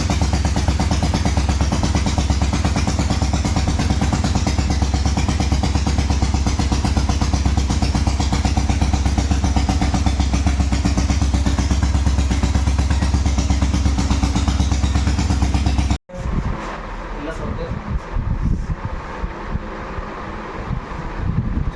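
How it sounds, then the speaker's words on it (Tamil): A restored 1986 Royal Enfield Bullet motorcycle engine runs at a steady, loud, dense idle, then switches abruptly to a rougher, clattering, wind-buffeted running sound. "ஸோ ஃப்ரெண்ட்ஸ் பார்த்திங்கன்னா இன்ஜின் பக்காவாக ஸ்டார்ட் ஆகிடுச்சு."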